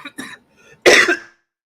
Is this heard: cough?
yes